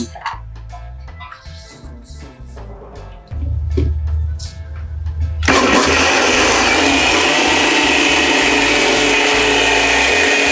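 A mixer grinder powders cumin and black pepper in a busy eatery kitchen. Quiet clatter gives way to a loud, steady, close whirring roar that holds for the last five seconds.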